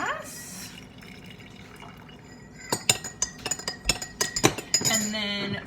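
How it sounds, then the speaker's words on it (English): Western Family Caramel Truffle coffee pours into a glass, the stream trickling quietly at first and then turning into a run of sharp clinks and splashes near the end. "And so I'm just going to pour it into the glass."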